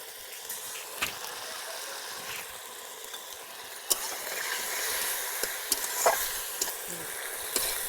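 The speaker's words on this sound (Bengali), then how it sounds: "আদা আর কাঁচা লঙ্কাটা ভালো করে কষিয়ে নিয়েছি, ভাজা ভাজা হয়ে গেছে" Ginger paste and green chili frying in a pan for a vegetarian dish, a soft steady sizzle with occasional stirring scrapes and clinks, fairly quiet and alone.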